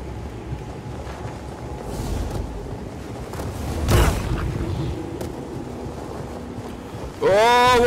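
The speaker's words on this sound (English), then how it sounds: "Oh my god, it's very windy." Wind blowing in the video game Star Wars Jedi: Fallen Order, a loud steady rush that swells briefly near the middle and ends with a warbling electronic chirp.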